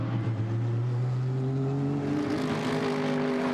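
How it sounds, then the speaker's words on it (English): Mercedes GT race car at Misano during qualifying, a deep engine rumble that rises steadily in pitch as it accelerates, heard from a distance and continuous, with no talk over it. "There you can hear that rumble of the Mercedes."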